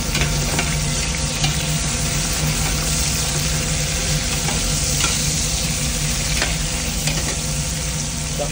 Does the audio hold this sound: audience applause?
no